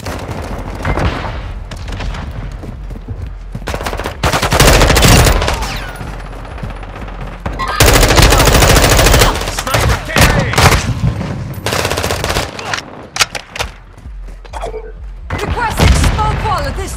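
Heavy gunfire fills a Modern Warfare II Control match: bursts of automatic weapons, rifle shots and booming blasts come in dense, loud waves, with radio-style game voices speaking in between.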